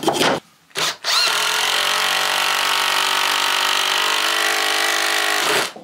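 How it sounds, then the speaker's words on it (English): Power drill boring into an old oak piece wedged under roof battens during a cottage renovation, a loud sustained whirring grind lasting about five seconds after two short starts, close by and without talk. "that piece of oak that I just drilled into, it looks like it's in better days, but it snapped the drill bit off"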